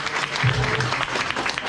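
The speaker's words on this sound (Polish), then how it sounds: "Brawa za odwagę" Audience applause after a young performer's stage cover of a Polish patriotic song, a dense steady patter of many hands clapping, moderately close, with a faint low voice briefly underneath.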